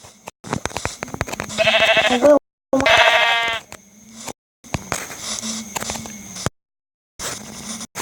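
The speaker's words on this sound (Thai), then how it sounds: "แกะ" Sheep in Minecraft give several clear, fairly loud bleats in short bursts, mixed with other game sounds and brief gaps of silence.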